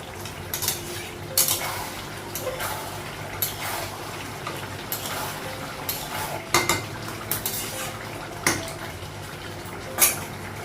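Meat curry being stirred in a pot, with a lid lifted and a spoon scraping against the metal in scattered clinks over a low, soft sizzle, close by and fairly quiet.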